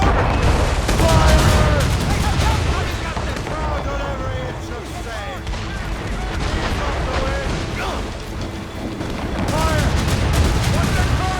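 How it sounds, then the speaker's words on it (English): Dense naval battle din from Assassin's Creed Rogue: a sustained volley of cannon and musket fire with booms and crackling shots, mixed with shouting voices throughout. "They are firing a volley!"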